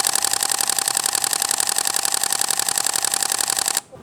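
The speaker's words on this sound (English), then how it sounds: "Now this can also do 11 FPS burst shooting." A Sony a6400 camera fires an 11 fps burst, its shutter clicking in a rapid, even mechanical rattle for nearly four seconds before stopping abruptly, close and alone.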